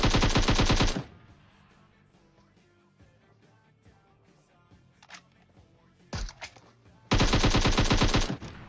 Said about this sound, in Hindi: तो मैं नेड करता हूँ और फिर गोलियां चलाता हूँ।